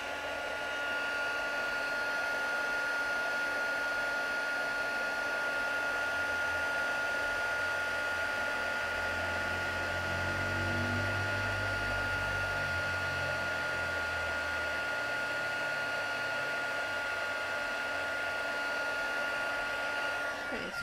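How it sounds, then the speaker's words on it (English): A heat tool blowing steadily while heat embossing a card with white embossing powder on black cardstock, a constant airy whir with a fixed motor whine, close and even throughout. "So I always start on one side and then push the heat tool along"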